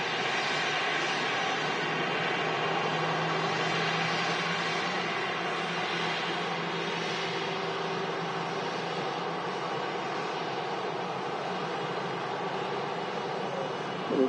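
EasyJet airliner at Manchester Airport, a steady distant jet engine roar with a whining tonal hum, continuous and fairly faint, with no talk.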